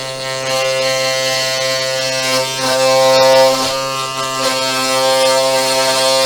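A Sainsmart Genmitsu 4040 Pro CNC machine cuts a 4 mm deep pass in a jig-and-pin setup, giving a steady, loud, close-up whine full of harmonics. The drone holds unbroken for the whole stretch and swells briefly around the middle.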